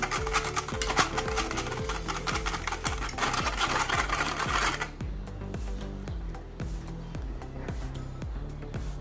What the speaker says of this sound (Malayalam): എന്നിട്ട് നല്ലപോലെ ഒന്ന് മിക്സ് ചെയ്യുക